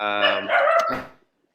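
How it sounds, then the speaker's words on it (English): A dog barks excitedly, a short burst of loud, harmonic yelps close to the microphone that fades out after about a second, with no talk alongside. "My dog's going crazy."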